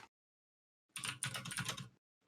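Computer keyboard being typed on in a quick burst of clicky keystrokes, close and fairly loud, running for about a second after a pause of near silence.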